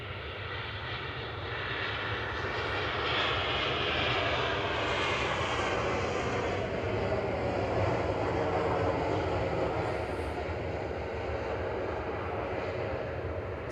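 Loud, sustained jet roar of an Airbus A320 Classic touching down at Manchester Airport with thrust reversers deployed, a broad rumbling wash that swells and holds, heard alone without talk.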